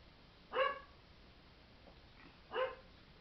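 Stanley, a pet dog, gives two short barks about two seconds apart, fairly faint and set against quiet room tone.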